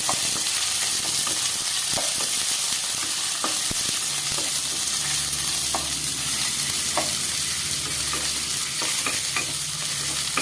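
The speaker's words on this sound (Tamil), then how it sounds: "வெங்காயம் பச்சை மிளகா ஃபஸ்ட்டு போட்டிருக்கோம்." Steady sizzling of onions and green chillies frying in a pan, with a spoon scraping and stirring at irregular intervals throughout.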